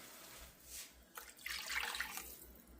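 Water is poured into a simmering beef broth mixture in a pot, making a faint, soft splashing trickle that swells briefly midway, with no talk.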